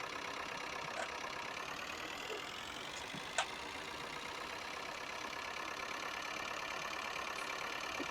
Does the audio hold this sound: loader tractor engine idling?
yes